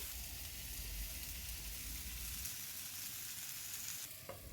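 Bottle gourd sizzles in a pan on a gas stove, a faint, even hiss that runs steadily throughout with a soft low rumble under it and a brief clink near the end.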